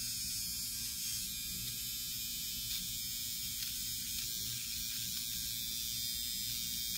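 A Flawless eyebrow trimmer runs with a steady, high-pitched electric buzz and hum, continuous and close, with no talking.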